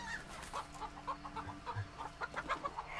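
Chickens cluck in the Shadow Tactics: Blades of the Shogun video game, a string of short, fairly near clucks and fowl calls scattered over low background ambience.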